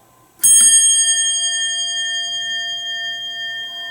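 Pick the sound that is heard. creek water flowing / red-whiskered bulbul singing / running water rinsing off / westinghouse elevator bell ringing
westinghouse elevator bell ringing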